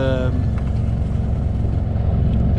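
A diesel marine engine revved fairly high, a loud, steady low drone with dense rumbling harmonics running throughout, a brief higher whine at the very start.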